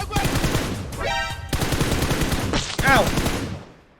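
An MK12 rifle fires repeatedly in PUBG Mobile, a dense run of sharp, loud shots in quick bursts with brief gaps, alongside metallic in-game effect sounds.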